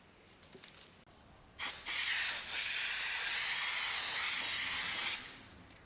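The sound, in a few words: spray adhesive aerosol spraying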